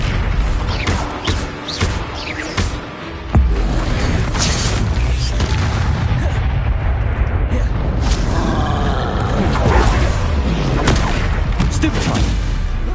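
Spell combat in Hogwarts Legacy: a continuous barrage of magical booms, blasts and crackling impacts over a rumbling game score, loud and dense for the whole stretch, with a brief dip near the start before the clashes intensify.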